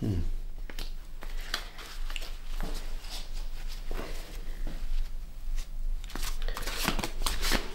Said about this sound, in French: tirer les cartes